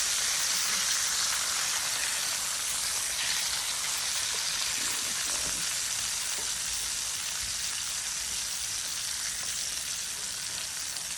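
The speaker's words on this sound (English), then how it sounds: "I'm gonna turn it back over so we can crispy up the skin just a little bit more" Trout frying skin-side down in a pan, crisping the skin: a dense, steady sizzle throughout, close and continuous, with faint stirring texture and no voices.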